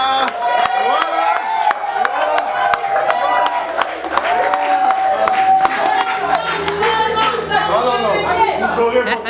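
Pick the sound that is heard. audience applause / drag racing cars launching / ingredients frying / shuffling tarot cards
audience applause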